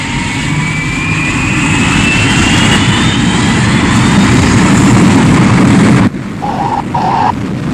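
A jet aircraft comes in to land: a loud, steady engine roar with a slowly rising whine fills the air, then cuts off abruptly and gives way to quieter rumble and short tonal bursts.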